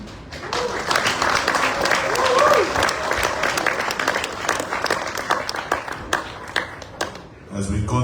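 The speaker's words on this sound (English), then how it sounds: "another round of applause for the Fiji Guard Union" Audience applause for the Fiji Guard Unit at a Fiji Day entertainment event at the UN Compound in Baghdad: a dense, sustained wash of many hands clapping at steady loudness, tapering off near the end.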